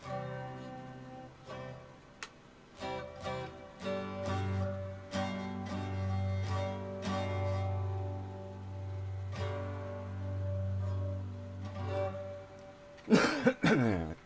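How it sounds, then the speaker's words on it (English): Steady strummed guitar chords ring out, then a single sharp, close cough bursts in near the end. "That was a bad position to cough in."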